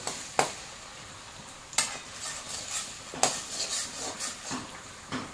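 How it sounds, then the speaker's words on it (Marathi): Masala for paneer sabji is sautéed in oil in a pan, with a steady low sizzle broken by several sharp spatula knocks against the pan at irregular intervals and softer scraping between them, with no voices. "आता ही छान तेलात परतून घ्यायची आहे"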